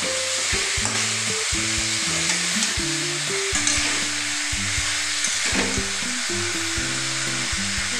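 Chicken pieces frying in a pan over a raised gas flame for a chicken curry, a steady loud sizzle with repeated scraping stirs and low clunks of the utensil throughout, no voices.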